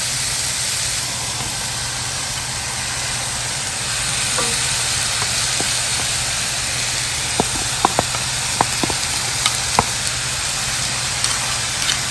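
Broccoli steams and sizzles with beef strips in a hot pan, a steady loud hiss running throughout, with a few sharp pops and crackles near the end.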